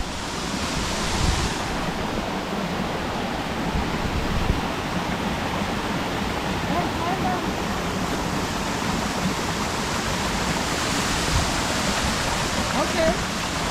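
A waterfall in the Philippines gives off a constant, full rushing roar of falling water, loud and close, holding steady without pause for the whole stretch.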